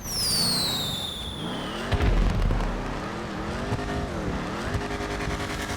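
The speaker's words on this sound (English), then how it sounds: "fireworks to celebrate my making it up back to here." Fireworks in Grand Theft Auto V: a whistling rocket climbs and fades, then sharp bangs and crackles burst at mid-distance, all over a steady game engine drone.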